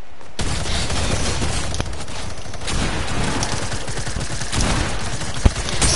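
Loud, continuous automatic gunfire from a gun in a PS4 video game rattles at close range in a dense stream of shots, with a sharper crack standing out near the end.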